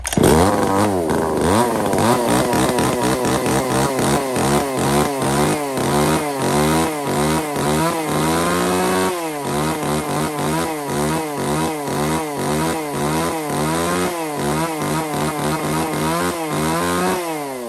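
A Japanese Tanaka chainsaw engine runs loud and close, its two-stroke buzz rising and falling in repeated revving cycles throughout, with no talk.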